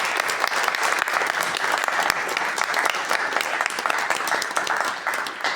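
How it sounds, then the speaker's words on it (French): Audience applause after a two-speaker conference talk by a Protestant pastor and another speaker, a dense, steady clapping from a full hall lasting several seconds and fading slightly at the end. "Grand merci à vous deux, on peut les applaudir."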